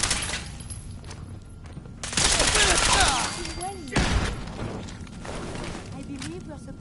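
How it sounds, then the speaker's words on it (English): Bursts of rapid gunfire in the Fallout 4 video game, loud clattering volleys with ringing impacts, repeated in clusters over a steady background of combat noise. "Returning fire."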